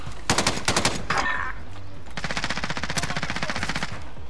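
Rapid automatic gunfire in Call of Duty Modern Warfare, loud close bursts of rattling shots at the start, then a longer sustained string of rapid fire, near and dominant throughout.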